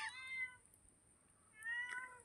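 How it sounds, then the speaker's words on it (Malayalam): A kitten gives two high, thin meows, one at the start and another near the end, close but faint, with a quiet pause between them. "നമ്മളെ പൂച്ചക്കുട്ടി അങ്ങനെ ഇങ്ങോട്ട് നടന്നു വരുന്നുണ്ട്"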